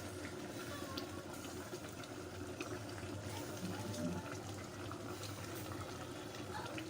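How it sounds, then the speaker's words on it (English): A pot of cocoyam sauce with bitterleaf boils with a steady close bubbling and hiss, soft and even throughout, with a low hum beneath and faint voices in the background. "we'll let it boil"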